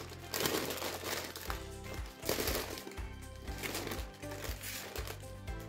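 Baking paper crinkles and rustles as a strawberry sponge roll is wrapped and lightly pressed, a close, continuous crackling with soft handling bumps and a low hum underneath.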